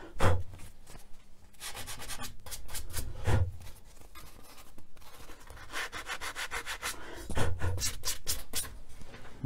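The edges of a casting are finished by hand with repeated rasping strokes, coming in close rhythmic bursts of scraping with short pauses between them.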